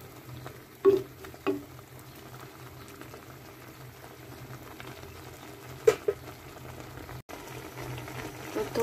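Jute leaves with jackfruit seeds cook uncovered in a pan, bubbling and simmering steadily up close, with a few sharp stirring knocks standing out.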